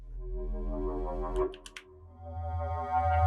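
A foghorn-like synth bass patch in Ableton for a heavy drum and bass remix drones deep and loud with a distorted, buzzy tone. It briefly breaks with a few short clicky glitches, then returns low and swelling.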